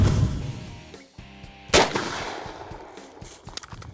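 .357 Magnum round fired from a big Ruger revolver: one sharp, loud report cracks out near, followed by a brief ringing echo that decays over a couple of seconds outdoors.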